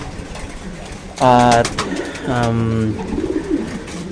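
Pigeons in a breeding loft during pairing give two loud, close throaty coos, each a rolling low call lasting about half a second, while someone talks nearby.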